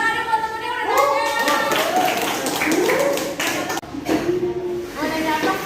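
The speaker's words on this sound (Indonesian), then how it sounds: "beri tepuk tangan dulu buat temen yang udah nanya" Children in a classroom clap for a classmate who asked a question. The clapping is scattered and fairly close and runs for a few seconds under the voices of kids talking, then fades before more chatter.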